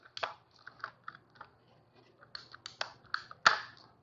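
A pair of cutters snips through plastic tubing during installation of a downstream injector with a three-way ball valve, making sharp close clicks and crunches with quiet gaps between them.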